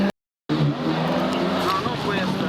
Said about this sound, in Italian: è passata la macchina, perché da me è appena passata